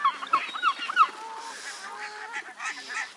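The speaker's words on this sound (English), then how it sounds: "Look at all these herring gulls." Herring gulls give several sharp honking calls close by at the start, followed by fainter overlapping cries from a large flock at the waterside.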